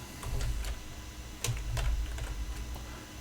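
Computer keyboard typing in quick irregular bursts of clicks and taps, close and moderately loud, with no voices.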